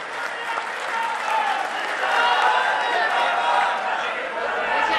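Loud applause from a political rally crowd welcoming Vasundhara, thick sustained clapping with crowd murmur swelling slightly midway and continuing to the end.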